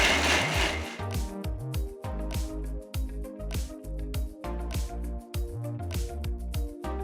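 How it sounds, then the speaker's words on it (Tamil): A mixer grinder blends soaked red chillies to a smooth paste, its motor whirring loudly in repeated short pulsed bursts with brief pauses, close by and alone. "ஒரு மிக்சர் ஜாருக்கு மாற்றி நல்லா ஸ்மூத்தாக அரைச்சு"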